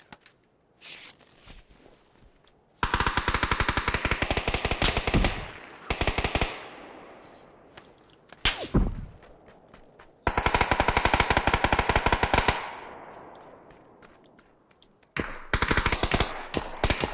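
Bursts of machine gun fire in the video game PUBG, several loud rapid volleys of a few seconds each separated by quieter pauses with single shots and faint footsteps.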